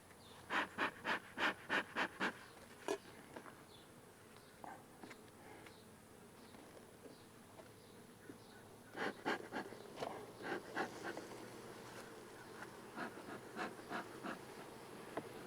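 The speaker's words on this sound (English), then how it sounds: "A lot of bees in here." Honeybees in a mini mating nuc during a queen check give a steady faint buzzing hum, with bursts of sharp rhythmic bursts near the start and again around the middle.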